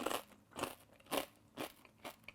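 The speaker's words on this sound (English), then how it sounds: "Crunchy, super crunchy as you can hear." Five crisp crunching bites on crispy pork belly skin in a steady rhythm, close and quiet, with brittle crackling on each bite and no talking.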